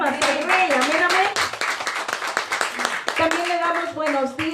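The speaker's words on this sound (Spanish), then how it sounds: "Denle palmas al Rey" A church congregation claps hands in a quick, steady rhythm, each sharp beat cutting through loud, sustained voices singing or calling out over the clapping.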